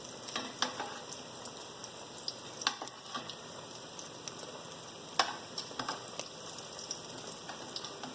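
Chickpea nuggets fry in a pan with a soft, steady sizzle. Scattered pops and crackles rise above it, and a few sharper clicks come from the pan.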